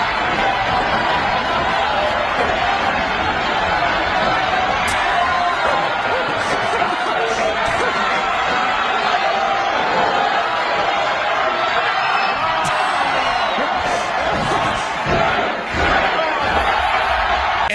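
In a wrestling arena a big crowd roars and cheers without pause, a loud, dense wall of voices that rises in a few spots and holds for the whole stretch.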